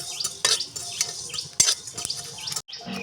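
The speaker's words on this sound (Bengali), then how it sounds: "5 ফোড়ন আর জিরেটা আমার ভালোভাবে ভাজা হয়ে গিয়েছে" Five-spice and lots of cumin dry-roasting in a hot wok without oil, for a mango pickle, giving light scraping and stirring scratches with clinks of utensil on metal in an uneven rhythm, close by, with no talk.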